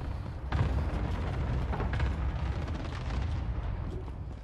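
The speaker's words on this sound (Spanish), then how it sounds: "aquí escucho unos tiros" Gunshots in the Warzone video game, a rumbling stream of distant booms and cracks with dense low-end thuds continuing throughout.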